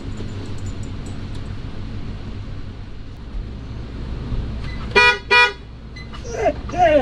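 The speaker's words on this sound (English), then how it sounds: "That was actually me blasting the horn." Two sharp car horn blasts sound close by in traffic on a Yellowstone park road, followed by a shorter toot, over a low engine rumble and faint road noise.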